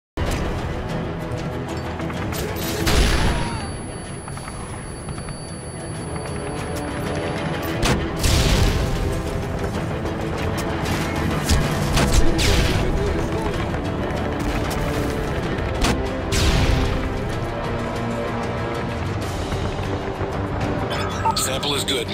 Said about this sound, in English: Throw a flashbang into the restaurant and launch grenades into it.